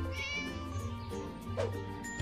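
A cat meows in a video game, a couple of clear mewing calls over background game music and ambience.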